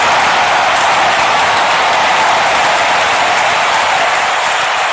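A cricket crowd at an India versus England match applauds a six, a dense, steady wash of loud clapping and cheering that fills the whole stretch without letup.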